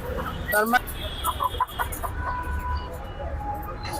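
Laying hens at a poultry seller, clucking and squawking intermittently at moderate distance, with people talking nearby over a steady background murmur.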